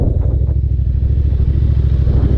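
A 2001 Ducati Monster 600 pulls away with a deep, loud V-twin rumble, its fast even firing pulses throbbing steadily close to the listener, with no voices.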